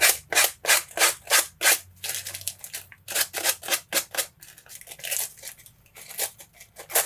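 Scissors snip through thin tissue paper for a table centrepiece in a quick, steady run of crisp, rustling cuts, each a short bright burst, close and clear with no talking.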